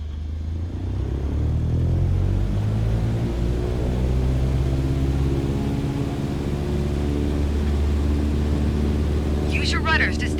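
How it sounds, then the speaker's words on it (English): Light airplane in Microsoft Flight Simulator at full takeoff power, a loud steady engine drone rising slightly as it accelerates down the runway, with an instructor's voice talking over it. "Apply full power and I'll walk you through the takeoff as we go"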